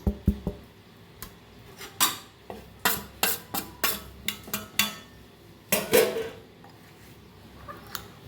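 A spoon scrapes and clinks around a bowl of spicy peanut chaat with cucumber, tomato and fresh coriander. The knocks come in irregular bursts, close and fairly loud, with short quiet gaps between them.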